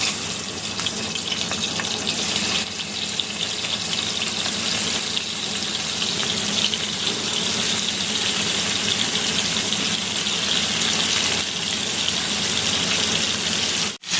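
Spice-coated hilsa fish pieces fry in oil in a frying pan, a loud, constant close-up sizzle and hiss lasting throughout without speech.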